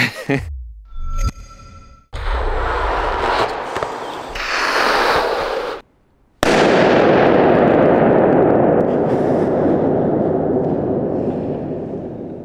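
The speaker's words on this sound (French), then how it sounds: "Ça c'est une grenade." A grenade goes off in one loud, sharp blast followed by a long, slowly fading rumble. Earlier, shorter bursts and gaps of near silence come before it.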